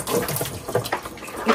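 A washing machine draining its water, a close splashing, gurgling rush of liquid with uneven surges and under a little nearby talk.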